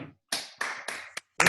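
A few online meeting participants clap in separate bursts, with a scattered handful of close, sharp hand claps coming through one after another with short gaps in between, and no talking.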